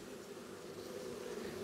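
Honeybees hum steadily on a brood comb during a hive inspection, a continuous low drone with no talk over it.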